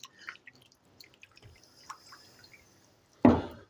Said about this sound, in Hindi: तो यहाँ पे थोड़ा-सा पानी इसमें डालेंगे इस तरह से।